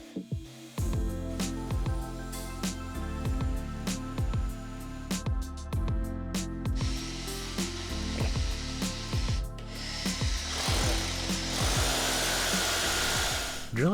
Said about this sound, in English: Here you can really see how important it is to use a vacuum because there would be a lot of dust otherwise.